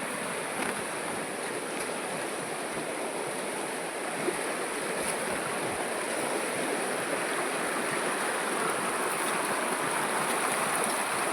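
River water flows in a steady, even rush that stays constant and fairly quiet throughout, with no voices.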